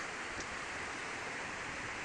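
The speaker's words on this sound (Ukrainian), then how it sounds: "Хвилі доходять уже конкретно до ніжки штатіва" Sea waves wash up a beach at rising tide, close enough to reach a camera tripod, making a steady, soft broadband hiss of surf with no voices.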